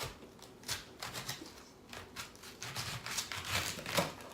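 A knife hacking big chunks off a cabbage, a series of crisp, irregular crunching cuts and leafy crackles, close and moderately loud with no talking.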